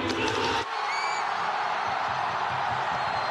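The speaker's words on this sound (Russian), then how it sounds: "Болельщики «Балтики» радуются не голу" Baltika football fans in a stadium during a Russian league match, a loud crowd roar for the first moment, then a steady distant rumble of the crowd.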